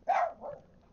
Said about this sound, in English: Just because Baxter's barking doesn't mean you gotta bark